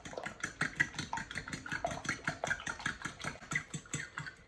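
A fork whisks eggs in a bowl for a Spanish tortilla, making a quick, steady run of light rhythmic clicks and taps close up, with no voices.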